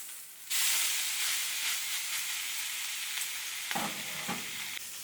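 Steak fat cap searing in a pan, a loud sizzle that bursts in abruptly and holds steady nearby, with a couple of brief scraping or stirring clatters toward the end.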